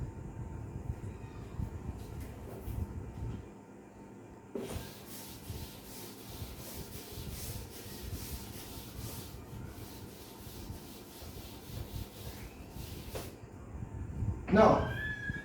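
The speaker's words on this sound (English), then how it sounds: "because there is no space, therefore I will rub this one" Chalk or marker writing being rubbed off a classroom board, a broad scrubbing swish that comes in patches over steady room tone, with a lecturer's voice briefly speaking near the end.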